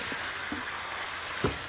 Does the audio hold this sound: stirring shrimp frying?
yes